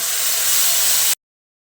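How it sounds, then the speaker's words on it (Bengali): Ginger, garlic and green chili paste dropped into hot fried onions in a pan, giving a loud, steady hissing sizzle for about a second before cutting off abruptly. "এবার আমি এখানে আদা রসুন আর কাঁচা লঙ্কাকে একসঙ্গে করে বেটে নিয়েছি, সেটা এর মধ্যে দিয়ে দিচ্ছি"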